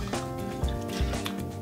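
Kahlua is poured into a Boston glass with ice for a cocktail, a short run of close, gentle liquid glugs and soft knocks over a faint steady hum.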